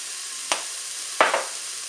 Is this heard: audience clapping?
no